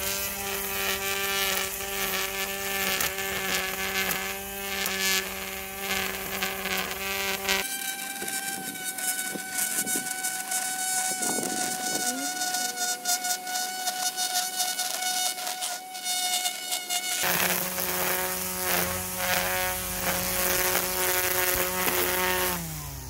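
A Greenworks 60V 16-inch cordless string trimmer edges and cuts long grass near top speed, its loud steady high-pitched electric whine droning without a break and shifting in tone as the line bites into the grass.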